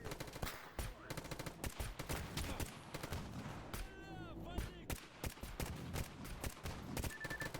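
Rapid AK rifle gunfire in S.T.A.L.K.E.R. GAMMA, dense repeated shots cracking in long bursts throughout, with a short ringing whine in the middle and brief gaps between volleys.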